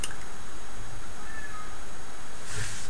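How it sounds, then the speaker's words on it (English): A cat meows faintly in the background once or twice through a dense hiss of noise. "Don't know if you can hear the cat in the background."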